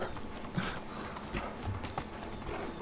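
Donkey hooves clip-clop in a quick running gait across the ground in the video game Medieval Dynasty, steady and fairly close throughout, with a faint whinny-like call mixed in.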